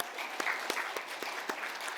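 Church congregation applauding during a Sunday worship service, a steady wash of clapping from many hands with a few sharper claps standing out, moderately loud and continuous for a couple of seconds.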